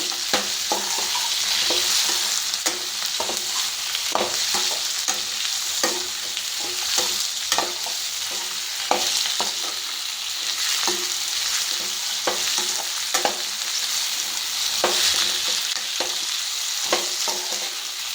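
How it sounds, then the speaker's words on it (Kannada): Tomatoes fry and sizzle in a pan over a high flame, with a steady hiss broken by repeated scraping stirs close up, and no talking. "ಫ್ಲೇಮ್ ಜಾಸ್ತಿ ಇಡೋದು ಒಂದು ಸ್ವಲ್ಪನೇ, ಟೊಮೊಟೊ ಸ್ವಲ್ಪ ಬೇಗ ಇದಾಗುತ್ತೆ"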